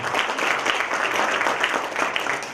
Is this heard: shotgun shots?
no